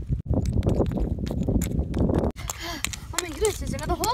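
Horse hooves clip-clop outdoors on a windy day with another horse nearby, loud and close under continuous talking.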